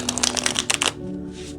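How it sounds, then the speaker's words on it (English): Tarot cards being shuffled up close, a quick run of crisp riffling flutters lasting under a second, followed by a quiet pause. "I'm going to shuffle the cards"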